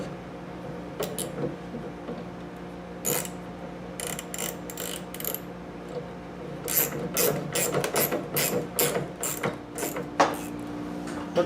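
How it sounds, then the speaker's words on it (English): A hand ratchet driving 1/4 inch lag bolts while putting up basement storage, with repeated bursts of quick metallic clicking strokes, close and fairly loud, in short runs separated by pauses. "I'm putting in 1/4 inch lag bolts."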